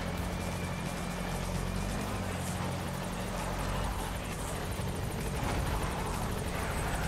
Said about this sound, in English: There's my golden helicopter!